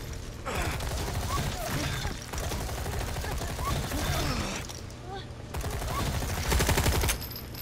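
Rapid gunfire in Resident Evil 4 Separate Ways, with dense bursts of automatic shots and clattering impacts going on for several seconds, loud and close, separated by short pauses.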